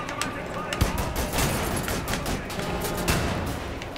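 In the shooter game Wolfenstein The New Order, dense gunfire crackles in rapid bursts with sharp individual shots and one louder report. The firing continues without a break for several seconds.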